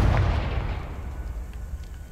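A Confringo fire spell in Hogwarts Legacy goes off as one deep, heavy blast with a rolling boom that slowly fades away, loud and close, with no talking.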